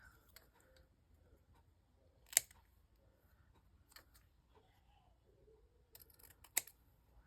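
Scissors cut out a small paper name tag in a quiet room, making a few sparse, crisp snips and clicks that stand out sharply against near silence.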